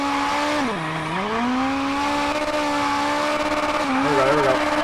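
A rally car in the video game WRC 9 swings through a handbrake turn. The loud, close engine note dips sharply and climbs back as it revs, then holds a steady drone with a brief shift near the end.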